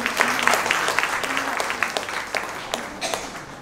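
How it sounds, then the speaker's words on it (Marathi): An audience at a classical music birthday concert claps for the accompanist, a dense, continuous round of applause that fills the room and slowly thins toward the end. "साथीदारासाठी खास टाळ्या वाजवा"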